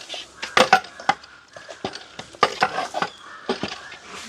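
Rice and salt stirred in a pot for quail biryani, a close run of scraping, grainy swishes and metal clinks from the spoon against the pot, irregular and fairly loud, with no talk.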